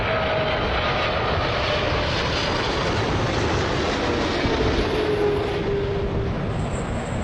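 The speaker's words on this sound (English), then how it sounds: "Air Canada plane makes a rough landing at Pearson" An Air Canada airliner roughly landing at Toronto's Pearson Airport, its engines a loud, steady roar close by that never lets up, with a thin whine running over the top and no voices.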